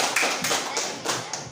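Brief classroom applause: a short burst of scattered hand claps from a small group, fairly quiet and close, with uneven taps rather than a full ovation.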